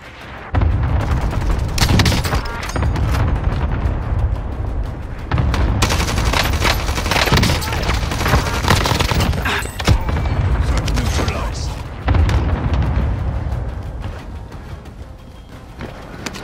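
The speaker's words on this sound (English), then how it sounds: "Allied cluster strike arriving." Allied cluster strike in a military video game: a dense, sustained barrage of overlapping explosions and gunfire, loud and continuous with heavy booming surges, while a voice talks faintly under the din.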